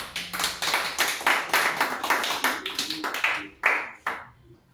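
A church congregation claps their hands in a quick rhythmic run of sharp, close claps that thin out into a few scattered final claps.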